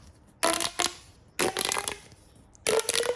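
A pop tube fidget toy stretched and squeezed in three separate bursts of crackling, ratcheting pops, each lasting about half a second to a second with quiet gaps between, close by and alone.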